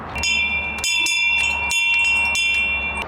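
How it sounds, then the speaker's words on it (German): A bell rung at the closed gate of a campground, with several bright metallic strikes at irregular intervals whose tones ring on between hits, fairly close and loud with no talking. "Ich habe hier schon die Glocke geklingelt, aber rührt sich keiner."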